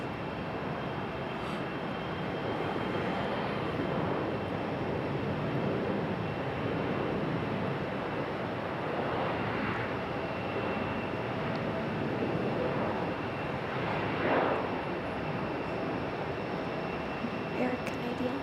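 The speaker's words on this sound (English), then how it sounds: "Air Canada on the roll." An Air Canada airliner rolls for takeoff at Raleigh-Durham International, a distant, continuous jet engine roar swelling slightly as it goes, with voices occasionally over it.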